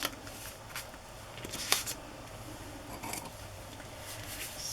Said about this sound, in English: So I want to cut away some of that doily.